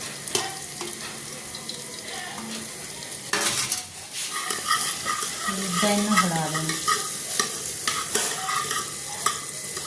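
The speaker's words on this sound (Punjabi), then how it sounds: "ਹੁਣ ਮੈਂ ਬੜੀਆਂ ਨੂੰ ਫਰਾਈ ਕਰੂੰਗੀ" Vadiyan, lentil dumplings, fry in hot oil with a bright continuous sizzle, broken by metal utensil clanks and scraping stirs against the pan, close and fairly loud.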